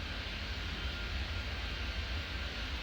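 Airplane taking off in Airport Madness 3D makes a steady, broad engine roar with low rumble, heard continuously and alone for a few seconds.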